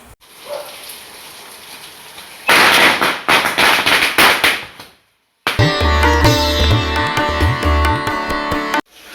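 A rapid string of loud Diwali firecracker bursts crackling close by in a street, then a sharp cut into a dense, continuous ringing, rattling burst.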